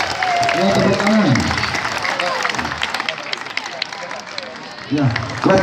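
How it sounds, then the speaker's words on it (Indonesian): A school audience breaks into applause, a burst of many hands clapping that tapers off, then a second round of claps near the end, with some murmuring in the room. "Ya, tepuk tangan."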